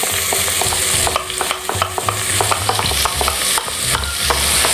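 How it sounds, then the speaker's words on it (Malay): Chopped large onion and garlic fry in hot oil in a pan, giving a steady, close, dense sizzle with a low background hum. Scattered light clicks and scrapes of stirring break through the hiss throughout. "So bila minyak dah cukup panas, kita letakkan bawang Holland dan juga bawang putih yang telah dicincang"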